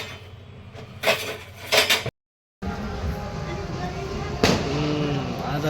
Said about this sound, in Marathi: अष्टमीचं फटाके वगैरे फुटतात